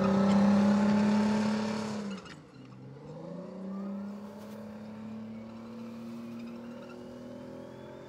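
Gölge Süvari, a large Turkish unmanned ground vehicle, starting autonomous driving: a loud steady engine hum drops abruptly, then the motor settles back into a rising, sustained drone with a faint whine, close and alone with no talk.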